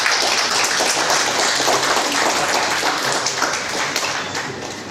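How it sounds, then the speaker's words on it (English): An audience at an accounting standards seminar gives a round of applause for the speaker, a continuous, fairly loud patter of many hands clapping that carries evenly for five seconds with a slight easing at the end. "May I have a kind of round of applause?"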